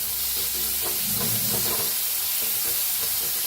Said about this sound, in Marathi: घेऊया कांदा, मिरची आणि लसूण आपण बारीक करून घेतलेला घालूया. आता ह्याला मी हलवून भाजून घेऊया.